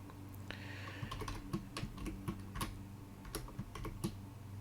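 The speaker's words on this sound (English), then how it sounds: "Having trouble typing." Keystrokes on a computer keyboard during a coding session, a quiet, uneven run of sharp clicks and taps over low background hum, with no voice.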